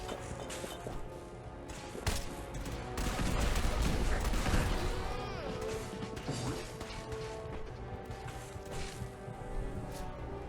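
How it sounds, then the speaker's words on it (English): Cannon blasts and crashing impacts from Fallout 4 pile up into a dense barrage near the middle, then thin out into scattered thuds and effects. "I tried everything in my power to blow up the horde with my cannon"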